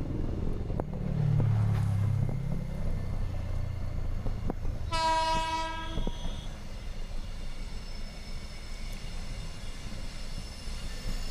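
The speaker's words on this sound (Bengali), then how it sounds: "ট্রেনের আওয়াজ পাবেন আপনি।" A long-distance train rumbles past near a Kolkata station with a long, loud horn blast midway, followed by fading rail noise.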